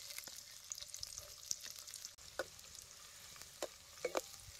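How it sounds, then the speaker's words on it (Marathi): Finely chopped onion frying in oil with cumin seeds, a soft steady sizzle broken by a few sharp pops and spatters, heard close and fairly quiet. "हे बारीक चिरलेला कांदा आता तेलात टाकायचा."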